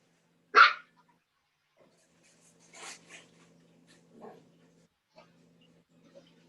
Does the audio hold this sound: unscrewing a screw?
no